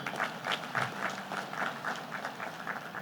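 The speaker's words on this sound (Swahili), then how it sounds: "jipigieni makofi wenyewe" An audience in a hall applauds a speech at a Burundi–Tanzania state event, a soft, fairly distant patter of many hands clapping steadily.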